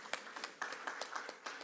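Scattered clapping from a small audience at a healthcare innovation event, about eight separate claps spread over under two seconds, fairly quiet and sparse rather than a full ovation.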